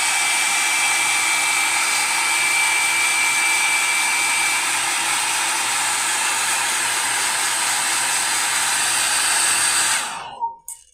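A hair dryer blows steadily on a freshly painted sacred statue, a loud, close, even roar of air and motor that runs unbroken for about ten seconds before switching off and winding down.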